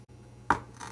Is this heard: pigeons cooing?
no